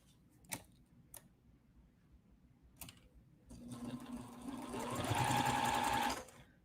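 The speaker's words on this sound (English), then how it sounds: "I want to take all of these 2 little flying geese and sew them together end to end, short side to short side" A sewing machine stitches two small flying-geese quilt pieces end to end, short side to short side. A few light clicks come first, then a steady, close whirring run of about two and a half seconds before it stops.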